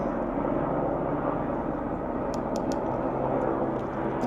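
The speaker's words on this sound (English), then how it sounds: "there's a helicopter rather that's passing." A helicopter passes overhead as a loud, continuous low rumbling drone that holds steady throughout, with a few faint clicks on top.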